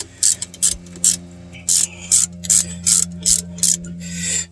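Ratchet working on brake caliper bolts of a 2011 Chevy Impala during a brake rotor job, giving about a dozen sharp clicking bursts in a steady uneven rhythm, close and fairly loud.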